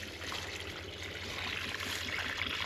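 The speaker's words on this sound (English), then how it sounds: "That's a decent amount of water to pull out of there." Water draining out of a pipe in an off-grid cabin, a steady, close rushing trickle that runs unbroken and grows slightly fuller toward the end, with no voices.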